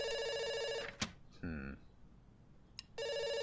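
A telephone rings in the video game The Tale of Doctor Langeskov, with loud electronic bell bursts at the start and end, separated by a short gap where a person murmurs briefly.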